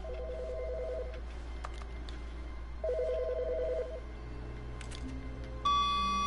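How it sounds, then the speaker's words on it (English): Telephone ringing in The Stanley Parable video game, two short electronic double-trill rings separated by a pause over a low hum, then a brief answering-machine beep. "Ooh, phone call."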